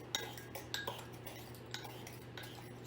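Sugar and cinnamon being stirred together in a small bowl with a utensil: a few light clinks and scrapes of metal against the dish. Quiet and close, with a low steady hum underneath.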